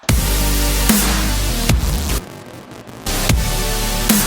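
A continuous digital synth layer hums underneath a dubstep track, a dense, bright wash with heavy beats punctuating it, dropping out briefly in the middle before returning, loud and unaccompanied by voices.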